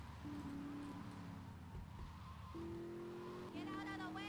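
Engine hum with tires squealing in drawn-out screeches, an arcade-like skidding sound against a steady motor drone, from a car drifting in the video game GTA Vice City.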